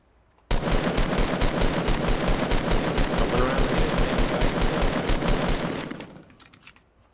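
Sustained rapid automatic gunfire in the battle royale video game Fortnite, a dense, steady burst of shots lasting several seconds at close range before tapering off, with faint voices underneath.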